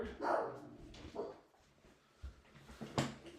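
A dog barks repeatedly in uneven bursts, several short woofs and yips spread across the moment, fairly near over a noisy indoor background, with no one talking.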